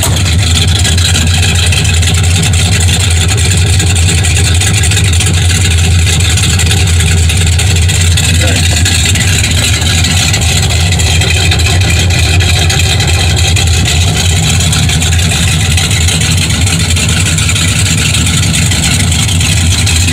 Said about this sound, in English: I'll go around behind for the exhaust note too. Oh yeah, nice burble.